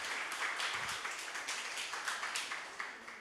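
Dense applause from a church congregation fills the whole stretch, steady and moderately loud, with individual claps blurring into a continuous wash and no voices on top.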